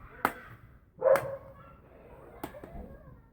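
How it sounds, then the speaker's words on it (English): Dog barks sharply three times in the background, each bark short and separated by quiet gaps, with a louder second bark, behind an indoor setting with no speech. "I do apologise about this annoying dog in the background."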